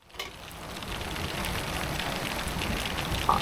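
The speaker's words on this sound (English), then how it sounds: "You probably can't see it on camera, but it's raining hard." Heavy rain pours steadily outside a small hut in the Alps, a dense, constant hiss of drops drumming on surfaces nearby, with no voices.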